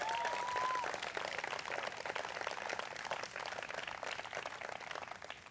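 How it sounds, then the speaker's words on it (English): An outdoor audience gathered in a backyard applauds, a fairly quiet, continuous patter of many hands clapping together for several seconds, fading slightly toward the end. "So please give them a big round of applause."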